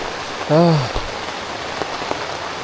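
Dense, constant downpour of heavy rain at a wild family campsite, with a brief voice saying a few words early on.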